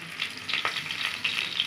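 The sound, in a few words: onions frying in a pan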